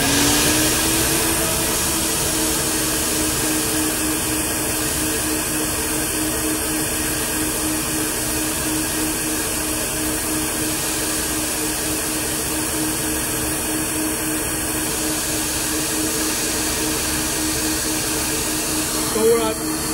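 A SuperFlow SF-600 flow bench testing an LS3 cylinder head roars with a steady, loud, unbroken airflow rush throughout, and a voice speaks briefly over the noise.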